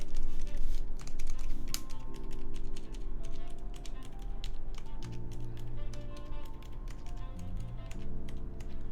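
Typing on a Norbauer Heavy 9 keyboard fitted with Topre-like Deskeys switches: a busy run of soft, rapid key strokes over a steady tonal background hum.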